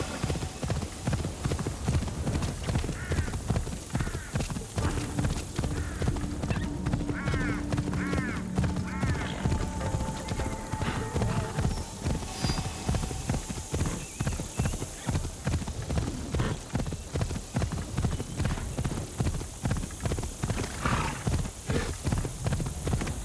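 Horse galloping in a video game, a steady rhythmic clip-clop of hooves repeating throughout at an even pace, with occasional neighs and faint background game sounds.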